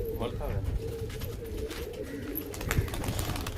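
Pigeons coo with low, rolling throaty calls in a loft, repeating close by under a man's speech and other background voices.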